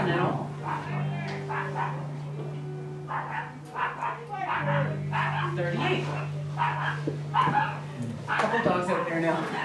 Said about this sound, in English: Couple dogs out there now.